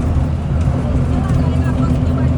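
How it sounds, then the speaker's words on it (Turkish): A bus in India pulls away with a steady low engine drone and rumble heard from inside the cabin, with voices talking over it. "sonunda otobüs kalkış yaptı"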